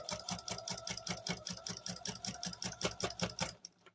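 Domestic sewing machine quilting a layered quilt sandwich through a walking foot, running as a fast, steady close-up chatter of needle strokes for several seconds before stopping abruptly.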